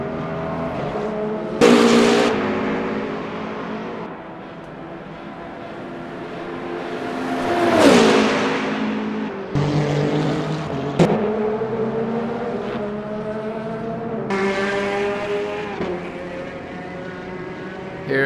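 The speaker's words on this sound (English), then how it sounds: "Here is a Hypercar in the pits." Le Mans Ultimate Hypercar engine during the 24 Hours of Le Mans, droning loudly with rising and falling revs and gear changes, other cars whooshing past, with no talk.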